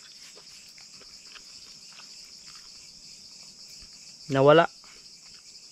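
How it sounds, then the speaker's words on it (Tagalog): Insects chirp at night in a forest campsite, a constant high, shrill trill that holds steady throughout, with a brief voice speaking near the end. "Ingay lang ng kulisap yung maririnig nyo."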